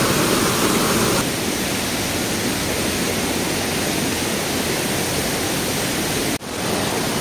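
A waterfall at a tribal village picnic spot in Rayagada, Odisha, pours at full force, a loud, unbroken roaring rush of water filling the scene close by, with one brief dip near the end.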